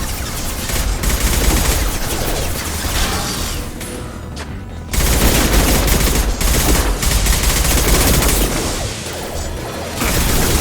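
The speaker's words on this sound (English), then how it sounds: "Taking heavy fire!" Heavy gunfire in a Mass Effect 2 firefight, dense rapid automatic bursts crackling loudly and nearly continuously, with a brief lull before the shooting resumes even harder.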